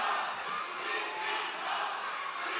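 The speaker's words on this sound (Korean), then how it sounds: "연호는 삼가해 주시기 바랍니다." Crowd noise from an audience at a Democratic Party convention speech in the Chungcheong region, a dense, steady roar of many voices without distinct words, fairly distant and continuous.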